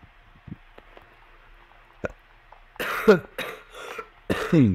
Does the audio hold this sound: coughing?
yes